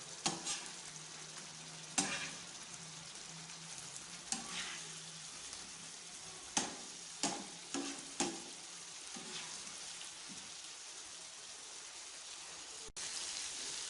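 Beef liver (kaleji) frying on a tawa, a continuous quiet crackling sizzle broken by several sharp scraping and tapping strokes of a spatula.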